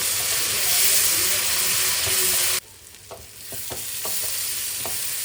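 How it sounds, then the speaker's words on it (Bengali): Spice masala for chicken and khichuri sautéing in a pan, a loud dense sizzle for the first half that drops off abruptly, then a quieter hiss with a few light taps and scrapes of stirring, close by. "ভালো করে কষিয়ে নিই।"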